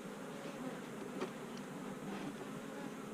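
Honey bees buzzing around a hive, a faint, steady droning hum that carries on without a break, with no voices.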